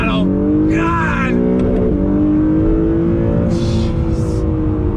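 Acura NSX sports car accelerating hard under throttle, a loud steadily rising engine drone heard from inside the car, with brief voices over it.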